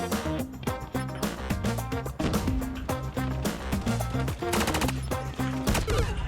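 Rapid gunfire in Call of Duty Mobile, rattling bursts of shots layered over loud game music throughout.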